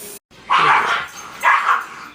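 Dogs bark indoors during an old Philco model 37-2670 radio restoration, two sharp bark bursts close together, fairly loud and heard alone.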